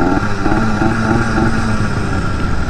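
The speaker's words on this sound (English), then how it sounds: "I'm just letting the motor run, warm up a little bit." A BT100 motorized bicycle engine runs steadily while warming up, a loud, close, buzzing small two-stroke drone with a continuous rattling pulse and slight revving, no voices.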